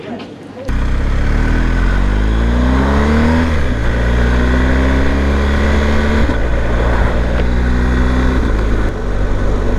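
Steady, loud engine drone of a BMW R 1250 GS TE motorcycle on the move in Leicester, with rising and falling pitch as the rider shifts through the gears. It runs continuously under wind buffeting, and someone talks over it.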